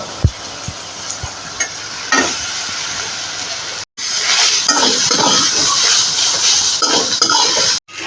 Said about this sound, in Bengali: এবার ওলের ডাঁটাগুলো ভাজা ভাজা হয়ে গেছে, এবার কুড়িয়ে রাখা নারকেলটুকু দিয়ে দেব।